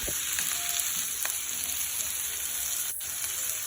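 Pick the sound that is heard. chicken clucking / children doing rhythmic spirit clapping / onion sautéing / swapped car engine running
onion sautéing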